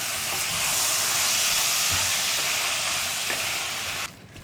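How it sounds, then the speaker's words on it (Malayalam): Yogurt being stirred into tomato masala in a pressure cooker: a loud steady sizzling hiss with faint stirring scrapes, cutting off abruptly near the end, no talk. "ഇതെല്ലാം ചേർത്ത് വീണ്ടും നന്നായിട്ട് ഇളക്കി മിക്സ് ചെയ്യുക"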